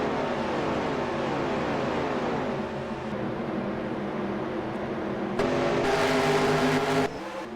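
Race cars in a racing video game of a 1955 ARCS Cup Series race at Darlington Raceway: a steady loud drone of engines howling around the track, with a brief swell of louder revving near the end, with no talking.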